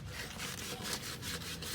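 Hand sanding of the rims on a Nissan Maxima 3.5 V6 SV, a steady scratchy abrasive rubbing in repeated strokes, close and fairly quiet, with no talking.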